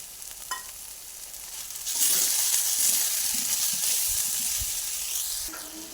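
Shrimp and jackfruit curry masala sizzles loudly in a pan as it is stirred, with bright frying hiss swelling after a quieter start and scraping stirs throughout, no voices.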